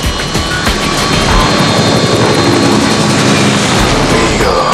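A helicopter in flight gives a loud, dense, continuous engine and rotor roar, close and steady throughout.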